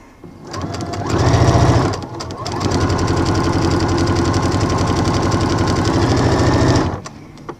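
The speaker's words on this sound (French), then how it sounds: "On coud toute la ligne." A sewing machine stitching bias binding along a seam runs in a steady, close mechanical whir for several seconds after a brief start, then stops, with no talk over it.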